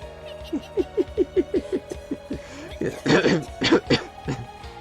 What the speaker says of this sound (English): She coughed violently, spitting up blood.